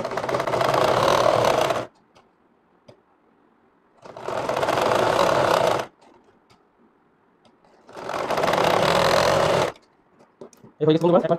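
An electric sewing machine stitches a frock neckline in three steady, loud bursts of about two seconds each, separated by quiet pauses, with a brief voice near the end.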